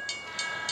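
A train passes a rail crossing in a Bangladeshi bus driving video game, heard as three quick, evenly spaced bright rattling bursts over a steady hum.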